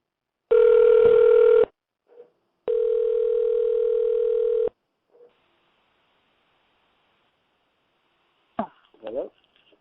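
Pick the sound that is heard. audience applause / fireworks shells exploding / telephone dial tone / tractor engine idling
telephone dial tone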